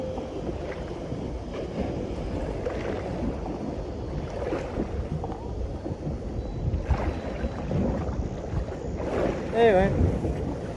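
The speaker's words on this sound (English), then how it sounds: "Where's this wind coming from?" Steady wind buffets the microphone aboard a fishing boat on Botany Bay, a constant low roar with gusty swells throughout and brief faint voice-like sounds near the end.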